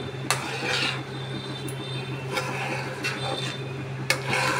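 A spoon scrapes and stirs coconut sandesh with ghee in a kadai, a steady close rubbing and scraping with a few sharp metal taps, over a constant low hum.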